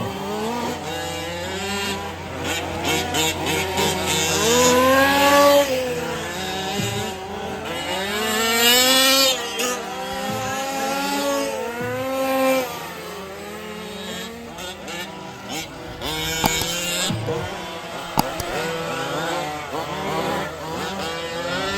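Large-scale RC touring cars, one a Renault, race around a track at Wagner Park, their small engines whining and revving loudly with rising and falling pitch as they pass close by, continuous throughout.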